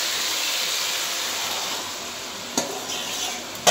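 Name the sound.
marinated mutton added to hot pan, sizzling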